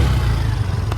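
A New Cuxi 115 scooter with a faulty drive belt that chirps and pulls away slowly on starting gives a steady, low engine drone at close range, with no clear rise in revs.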